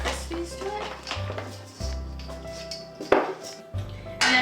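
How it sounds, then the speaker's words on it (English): Dry Rice Krispies tumbling onto a greased baking tray, a run of light clattering taps and knocks against the container, close and fairly loud, with brief low voice murmurs underneath. "you're going to take a greased container or baking tray, and you're just going to add Rice Krispies to it"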